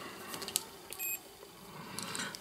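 A multimeter in continuity mode gives a short electronic beep while probing a Samsung hard drive circuit board, faint and brief amid quiet ticks and handling noises.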